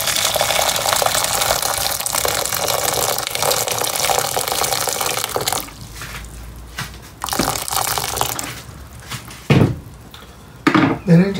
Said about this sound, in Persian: خب آب لمن رو من روی اجاق میزنم و آب جوش رو بهش اضافه میکنم.